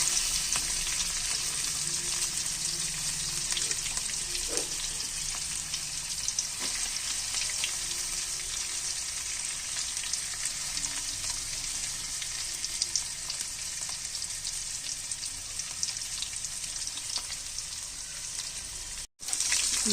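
Onions, green chillies and curry leaves frying in a pan, a steady close sizzle that crackles without a break for the whole stretch, with a few faint knocks of stirring and no voices.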